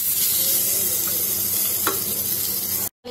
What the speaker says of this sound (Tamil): தக்காளி போட்டுடலாம். தக்காளி நல்லா வதங்கட்டும்.